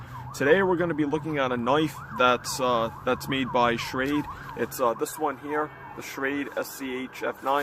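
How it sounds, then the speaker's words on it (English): Police sirens wail in the distance near a police station, heard from a backyard in southern New England, with faint rising and falling tones running beneath someone speaking close to the microphone. "Sorry about the sirens in the background."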